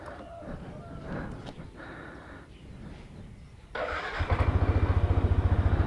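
A motorcycle engine fitted with a Daytona double clutch pad set starts up and settles into a loud, steady idle, its rapid even pulsing beginning near the end after a stretch of quieter mechanical rustle.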